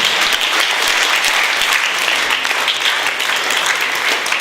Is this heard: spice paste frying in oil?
no